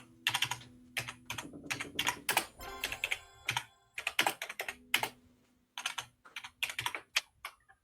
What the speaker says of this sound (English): Who's typing so brutally?